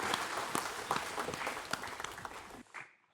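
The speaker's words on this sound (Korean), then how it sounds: "영광의 박수로 하나님께 드리겠습니다" Congregation applause at a church worship service, a steady crowd of hands clapping with sharp individual claps standing out, then cutting off abruptly before a brief faint clap near the end.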